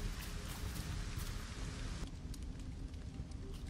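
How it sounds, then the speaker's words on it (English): Steady rain in the video game LEGO Fortnite hisses down in a constant wash, with a sudden drop in intensity partway through. "Why did it have to rain on the first day?"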